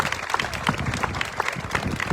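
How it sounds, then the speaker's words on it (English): A crowd applauds the festival queens at the Jackson Apple Festival's inaugural Red Coat Club presentation ceremony, a brief, dense burst of clapping that stays fairly even throughout. "I'd like to give our queens a big round of applause for helping us with the ceremony"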